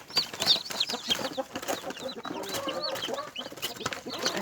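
Newly hatched chicks peep and cluck close by in a busy cluster of short, high chirps, with a few low adult hen clucks mixed in, no speech.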